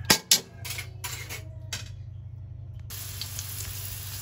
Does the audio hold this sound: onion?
yes